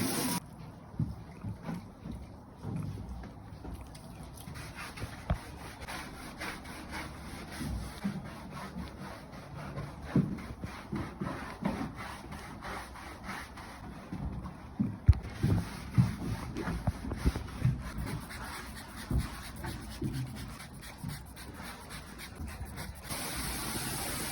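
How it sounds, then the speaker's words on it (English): Parts of an HVAC unit being scrubbed clean during maintenance, a close, continuous rough brushing and rubbing with irregular strokes and a few knocks, no talk. "Pretty much just scrubbing these out."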